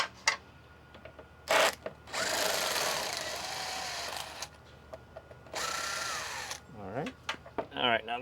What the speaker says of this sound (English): We very gently just use our gear wrench, ratchet, 8mm.